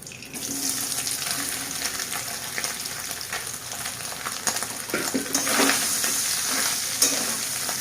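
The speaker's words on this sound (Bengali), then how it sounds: "এবার ভেজে নেব সয়াবিনগুলোকে।" Soybean chunks fry in hot oil in a pan with a loud, continuous sizzle, stirred now and then with scraping bursts, close up and without talk.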